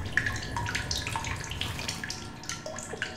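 Fresh water runs steadily in The Solus Project, a continuous splashing stream like a tap filling a basin, close and fairly loud throughout with small drips and gurgles on top.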